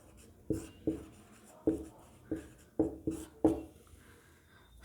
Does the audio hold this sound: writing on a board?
yes